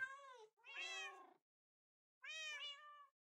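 A video game cat meows three times, clear and close, with a long silent gap before the last call and no voices.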